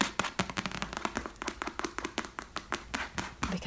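Fast, close fingertip tapping on a faux leather chair seat gives a crisp, slightly hollow patter, steady and even, with no voice over it.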